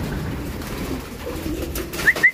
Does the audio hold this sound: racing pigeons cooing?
yes